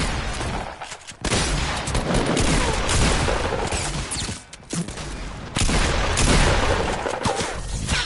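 Heavy bursts of gunfire from a shooting video game, with dense machine-gun fusillades and booms filling most of the stretch, broken by two brief lulls, loud and continuous.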